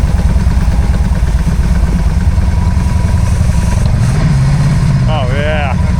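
A 1970s big block jet boat engine runs steadily on the water, a loud, continuous low rumbling drone that holds throughout while people talk over it.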